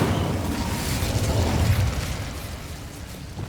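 A fire spell cast in Hogwarts Legacy sends out a sustained fiery whoosh and rumble, loud at the start and easing away over a few seconds, with no talk.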